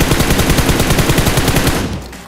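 Rapid automatic gunfire in PUBG Mobile, a dense unbroken burst of evenly spaced loud shots lasting about two seconds before cutting off, with no talk over it.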